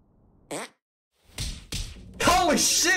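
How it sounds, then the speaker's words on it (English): Cartoonish farts from the South Park: The Stick of Truth video game, a short squeaky one followed by two louder blasts, then a long, wet, warbling fart, close and loud with brief silences between. "I'm going to teach you a fart called the Sneaky Squeaker."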